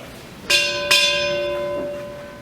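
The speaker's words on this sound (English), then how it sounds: "Sound 2 bells." A bright ship's bell is struck twice in quick succession during a US Navy retirement ceremony, the second stroke ringing out and slowly fading.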